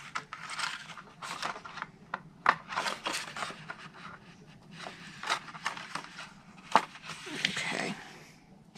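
Scissors cut card stock along a score line for a ladybug gift tote, giving a close series of crisp snips and rubbing scrapes in uneven bursts, with a voice speaking now and then.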